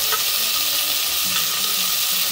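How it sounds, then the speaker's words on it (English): Sautéed onions and tomatoes sizzle steadily in a pan for a Sudanese eggplant salad, a constant close hiss of frying with faint stirring and no talk. "So once the onions are sauteed, you're gonna add your tomatoes and let that cook down."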